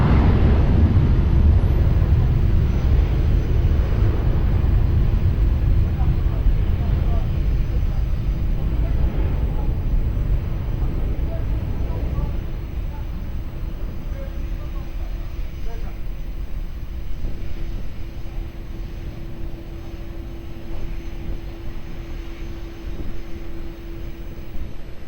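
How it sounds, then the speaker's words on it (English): An airliner takes off at Lisbon Airport, its engines building to a loud, broad rumbling roar that slowly fades and thins as the plane climbs away, with a faint steady tone lingering under it. "Immediate takeoff."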